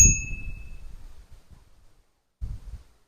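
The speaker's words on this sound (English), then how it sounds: "Has a little bell that you needed to attach." The small attached bell on a HITWAY BK10M folding electric fat-tire bike gives a single sharp, bright ding that rings out quickly, followed by soft handling thumps and quiet.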